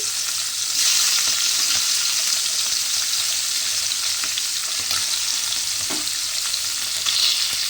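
Tangra fish sizzle and fry steadily in hot oil in a pan, a continuous loud crackling hiss with small spits and pops throughout, no talking.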